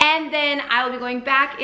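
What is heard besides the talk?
No distinct noise like a dog, phone or traffic.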